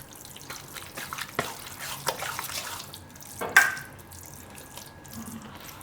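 About a cup of water is poured into poha batter for handvo in a home kitchen, giving faint, soft splashing and trickling with a few small clinks.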